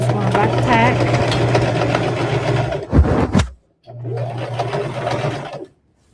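A sewing machine back tacking along the edge of a rag quilt, a loud rapid mechanical whir with a low hum that cuts off briefly after a sharp clunk, then resumes and stops again.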